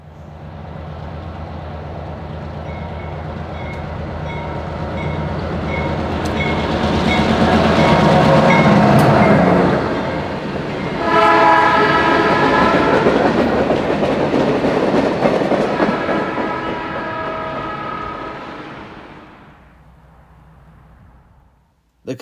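A Reading and Northern freight train hauling hazardous materials rolls past with a freshly painted caboose, a loud rumbling build of wheels and clattering cars with squealing tones that swells, peaks and slowly fades away.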